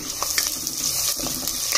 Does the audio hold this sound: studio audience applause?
no